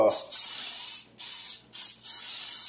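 Extra virgin olive oil is sprayed from a can into a hot pan in three hissing bursts, each about half a second to a second long, loud and close with brief pauses between them.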